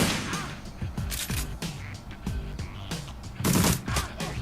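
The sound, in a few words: aimed gunshot in the video game Shadowrun Returns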